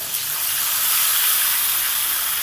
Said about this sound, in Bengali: এবার তেলের মধ্যে টমেটোটাকে সুন্দর করে একটু ভেজে নিতে হবে